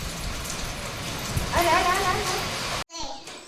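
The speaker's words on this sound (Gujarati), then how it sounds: "ત્યાં આવો વરસાદ આવ્યો તો ફરી ભીનું થઈ ગયું" Steady rain patters loudly on surfaces outdoors, a dense continuous hiss, while a voice rises briefly over it before a sudden cut.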